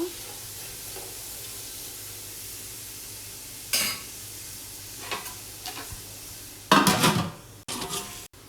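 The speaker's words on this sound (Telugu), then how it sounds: "ఈ క్యారెట్ అంతా కూడా సిమ్లోనే ఫ్రై చేసుకోవాలండి, లేదంటే మాడిపోతుంది అన్నమాట." Carrots frying on a low flame in a pan with Maggi stock, a soft steady sizzle with occasional utensil scrapes and a louder burst of clattering stirring toward the end.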